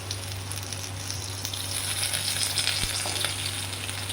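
Potatoes fry with onions in a pan, making a loud, continuous close-up sizzle with crackling texture, occasional scrapes and knocks from stirring, and a low hum underneath; no one speaks.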